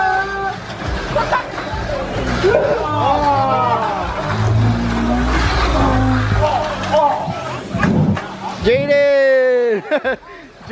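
Mini 4WD toy cars race around a track at a Hawaii race day, their small motors whining amid a lively crowd of people chatting and calling out nearby.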